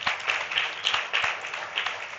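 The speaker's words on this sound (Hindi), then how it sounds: "उनके लिए भी ताली बजाओ।" Audience applause at a Sunday church gathering as people are called up for prizes: a steady, moderately loud patter of many hands clapping, with a few sharper claps standing out across the whole stretch.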